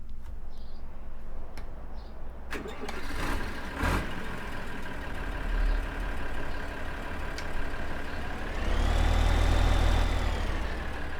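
A John Deere 4020 tractor in Farming Simulator 15 idles with a steady low engine drone, then swells louder toward the end as the engine revs up, with no voices over it.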